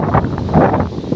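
Wind gusts buffet the microphone on a hillside during a bike hike, a short burst of rough low rumble with no talking.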